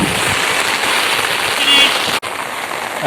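Heavy rain pours down in Zarola village near Borsad, making a dense, steady roar of water on surfaces that holds level throughout, broken once by a brief dip.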